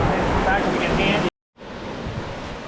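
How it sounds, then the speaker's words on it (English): Waterfall on Sulphur Creek in Capitol Reef, Utah: a loud, steady broadband rush of falling water, briefly cut out for a moment before resuming at a slightly lower level. "There's the first waterfall."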